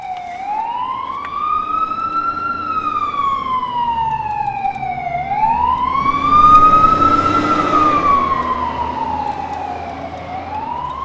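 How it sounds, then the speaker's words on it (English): A fire truck siren wails in slow rising and falling sweeps, growing louder as it approaches from behind on a city street, with traffic rumble underneath and no talking. "it was actually a fire truck that was coming up behind me"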